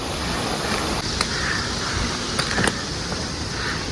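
Mountain waterfall rushing along the Poon Hill trek in Nepal, a broad steady roar of falling water heard from a moderate distance, with light wind buffeting and a few faint clicks, no talk.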